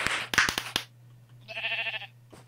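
Bleating from a sheep in the Minecraft multiplayer game, a short wavering call rising clearly after a burst of sharp clicks and a steady low hum.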